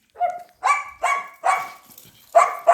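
A female dog barks outdoors in the morning: four loud, close barks in an uneven rhythm, each a short burst separated by brief pauses, with no talk.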